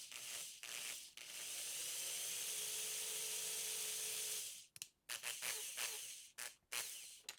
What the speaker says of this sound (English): I'm just drilling out the posts to accommodate